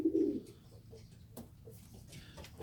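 Young pigeons in a loft coo low and soft, one fuller coo at the start followed by fainter, scattered murmurs over a quiet room hum.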